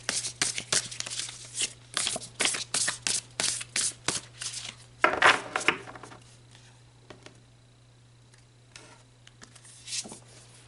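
Tarot cards for a past-life reading being shuffled by hand in a quiet room, a run of quick riffling bursts up close, then a louder riffle and a few faint taps before it goes quiet.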